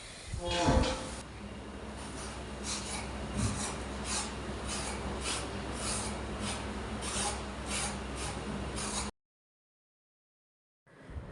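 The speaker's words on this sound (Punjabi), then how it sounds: "ਇੱਥੇ ਮੈਂ ਕੱਟ ਰਹੀ ਹਾਂਗੀ ਜੀ ਕੱਦੂ ਦੀ ਸਬਜ਼ੀ" A pumpkin being cut for a vegetable dish: repeated rasping, scraping knife strokes against the gourd at a steady rhythm, close and fairly quiet, stopping abruptly near the end.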